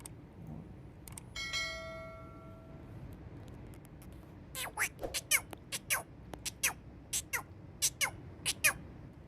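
Cats in a Gulf country's intense summer heat: after a quiet stretch with a brief tonal chirp, about a dozen short, close meows repeat in an irregular rhythm, with no talking.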